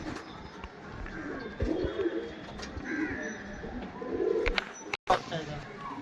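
A male pigeon cooing in soft, low repeated calls, close by, with someone talking over it and a brief sharp knock near the end.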